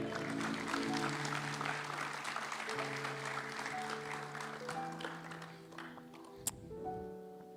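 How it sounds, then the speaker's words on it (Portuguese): Applause from a church congregation fills the room, steady and broad, with sustained organ or keyboard tones held underneath and a brief sharp knock near the end. "Dá uma salva de palmas para o Senhor."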